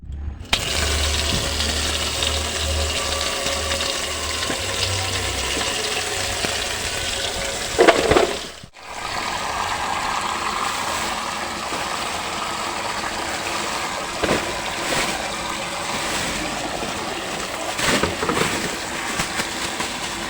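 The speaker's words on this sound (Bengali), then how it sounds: "বাজার থেকে যে সবজিগুলো দিয়ে গেছে এবার আমি এগুলো ধুয়ে নেবো" Vegetables brought from the market being rinsed in water in a large basin, a steady splashing and sloshing wash running throughout, close and fairly loud, with one brief break midway and no talk.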